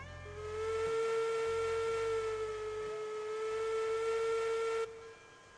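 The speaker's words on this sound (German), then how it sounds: "Zylinderhähne auf, Glocke an, Pfeifen." A long, loud steam locomotive whistle in the video game Railroads Online holds one steady tone for several seconds over a rhythmic low chuffing, with cylinder cocks open and bell on, then cuts off abruptly.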